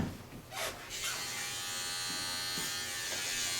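Electric hair clippers trimming the back of a neck during a haircut, a steady close buzzing hum that runs continuously with slight shifts as the blades move.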